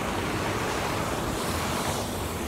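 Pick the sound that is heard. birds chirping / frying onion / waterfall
waterfall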